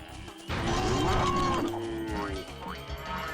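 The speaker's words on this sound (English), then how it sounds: "Finally you, Mr. the Cow." Cow mooing in the video game Spyro: Enter the Dragonfly, a loud drawn-out bellowing moo with a wavering pitch, followed by shorter lowing calls over a busy game background.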